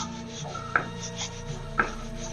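Ragi sangati is worked with ghee in a pot, a close soft rubbing and scraping of a spoon through the thick mixture, with two sharper knocks against the pot's side.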